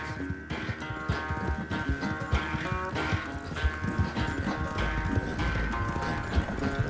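Hooves clip-clopping in a steady, uneven rhythm over a low rumbling background, with a faint tonal hum throughout, from the video game Red Dead Redemption 2 on PS5.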